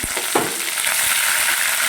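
Fish roe hits hot oil in a pan with a sharp burst of sizzling, then settles into a steady, close hiss and crackle of frying that lasts to the end.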